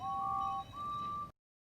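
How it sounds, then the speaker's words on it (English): A toy train engine whistle from a Thomas and Friends wooden railway set gives two clear, steady tones, a short toot followed by a longer one, then cuts to silence. "They whistled and tooted in excitement."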